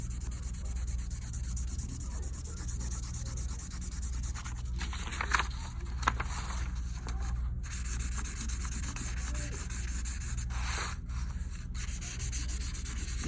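A blending stump rubs steadily over a pencil drawing of a shoe on paper, making a soft, continuous, close scrubbing hiss that stays faint and even throughout, with a couple of slightly sharper strokes.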